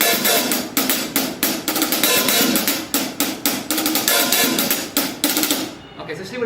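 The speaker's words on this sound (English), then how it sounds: "He's opening the hi-hat with his foot a little bit. It gives it an open sound." Drummer playing rapid hi-hat patterns, loosening the hi-hat with his foot for a sizzling open sound, with crisp steady strokes and loud, dense cymbal wash that fades at the end.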